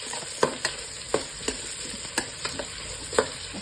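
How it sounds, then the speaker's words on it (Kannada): Onions and green chillies fry with cumin, fennel, cinnamon, cloves, bay leaf and cardamom under a constant sizzle, while a spoon knocks and scrapes the pan in sharp, spaced strokes. "ಈರುಳ್ಳಿ ಹಾಕ್ಕೊಳ್ಳಿ ಮತ್ತು ಹಸಿಮೆಣಸಿನ್ಕಾಯಿ ಫ್ರೈ ಮಾಡ್ಕೊಳ್ಳೋಣ"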